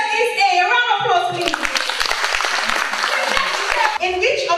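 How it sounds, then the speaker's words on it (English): An audience at a secondary school chemistry quiz competition breaks into a short burst of clapping between a speaking voice before and after, fairly loud and close. "A round of applause"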